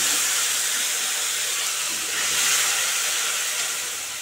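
Spice paste of ground dried chilli, onion, ginger, cumin and green chilli hitting a hot pan for rui fish curry, a loud steady sizzle and hiss that swells slightly near the end.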